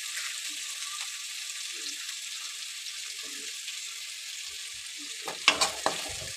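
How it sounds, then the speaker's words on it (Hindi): Potatoes tipped into a pan of onions frying on a gas stove for a potato-brinjal sabzi, giving a steady soft sizzle with a few sharper clattering bursts near the end as they land and are stirred. "उसके बाद हम डाल देंगे आलू को।"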